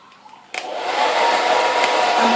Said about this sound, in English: get your hairdryer